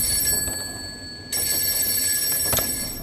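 A telephone rings at home with a bright electronic bell-like tone, sounding a few steady bursts over faint room noise, with no talk.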